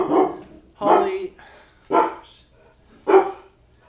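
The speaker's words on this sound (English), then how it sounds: "She always picks the worst times to bark." A pet dog barks four times in a steady rhythm, loud and close, in an indoor setting with no talk over the barks.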